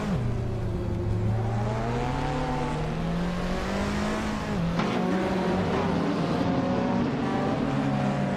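Race car engine of a 2016 Mazda MX-5 Cup in a racing game, a loud sustained drone that climbs steadily in pitch through the gears, with a brief shift partway through, no talking.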